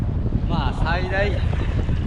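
Strong, gusty offshore wind at a windsurfing beach buffets the microphone with a constant low rumble while a person talks over it.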